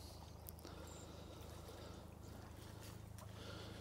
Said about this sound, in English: Just hear the water lapping in gently there.